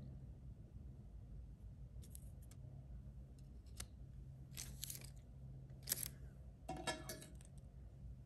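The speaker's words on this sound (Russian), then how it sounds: "Ножницы." A few sharp metallic snips of scissors, spaced apart over a low steady hum, with a longer rasping cut toward the end.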